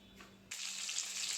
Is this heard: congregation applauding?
no